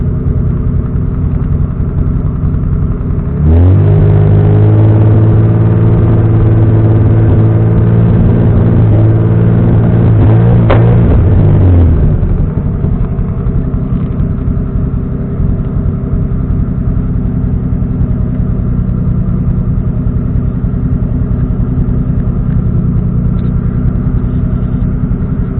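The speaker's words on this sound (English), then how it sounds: "I don't like all that backfiring and stuff like that." A tuned car engine set up with TunerStudio fires up and idles loudly for several seconds with a strong steady drone, then drops back to a lower rumble after a brief sharp pop.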